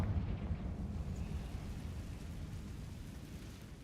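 Confringo spell explosion in the Hogwarts Legacy video game, a low rumbling roar that starts strong and slowly fades, heard alone without voices.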